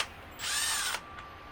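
A power tool or ratchet spins off a small side bolt on a BMW E30 with an M50 engine, one brief buzzing whir close by, alone without talk.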